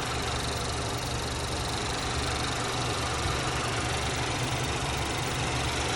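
A 2021 Acura TLX A Spec engine runs steadily with the hood open, a continuous close idle hum with a faint rhythmic knock and broadband mechanical noise, unbroken for the whole stretch with no talking.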